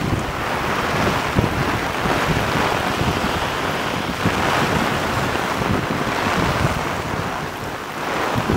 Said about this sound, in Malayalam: ശക്തമായ മഴ, ശക്തമായിട്ടുള്ള മഴ.